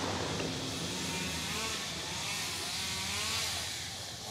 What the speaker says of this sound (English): they have the machine and chainsaw back here clearing all this out